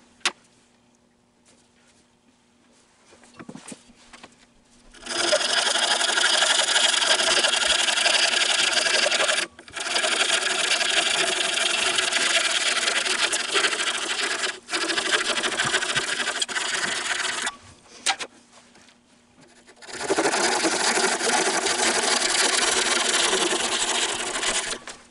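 Piece of wood being cut down by hand in a woodturning workshop, long stretches of loud, rough rasping strokes broken by short pauses, close by with no talking.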